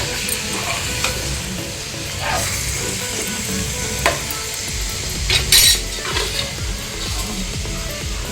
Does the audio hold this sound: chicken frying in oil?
yes